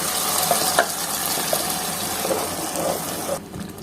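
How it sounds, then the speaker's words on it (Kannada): Onion sizzles in a pan with ground masala for a Mangalore-style bangda fish curry, a steady hiss with a few soft stirring clinks, cutting off near the end. "ಈರುಳ್ಳಿ ಫ್ರೈ ಆದಮೇಲೆ ರುಬ್ಬಿರೋ ಮಸಾಲಾನ ಸೇರಿಸ್ಕೊಳ್ಳಿ"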